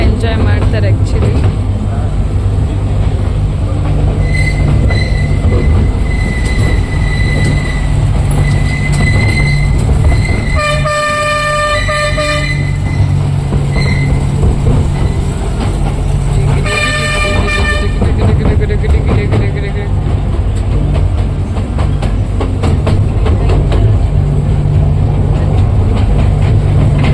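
A train runs at the Mysuru Railway Museum, which holds a toy train and a 127-year-old royal train. A constant low rumble carries two short bursts of tonal horn or whistle toots, with voices talking over it.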